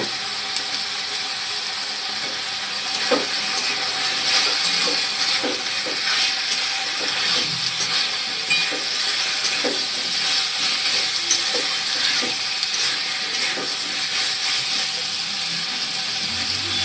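Potatoes fry and are stirred in a pan for a home-cooked lunch, a steady close sizzling hiss broken by scattered light scrapes and clicks.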